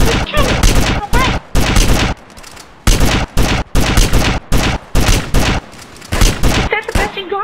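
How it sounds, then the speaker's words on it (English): Rapid bursts of gunfire in a GTA video game, with loud, dense shots in quick clusters separated by brief gaps, all close and harsh. "we gotta use that shotgun"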